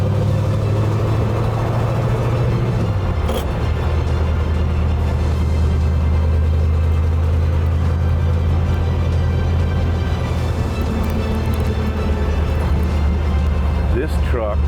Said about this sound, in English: This truck is probably one of the smoothest driving flatheads you'd ever see.